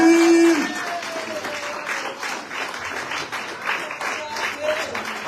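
Church congregation applauding and cheering for Jesus, dense clapping filling the room with scattered shouts, steady throughout, joined at the start by a sung or sustained voice.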